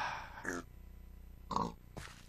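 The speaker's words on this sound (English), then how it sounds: "Little pig. They sound like toots when they speak." Pig grunts in Minecraft sound in three short, separate bursts, faint and low in level, with brief gaps between them.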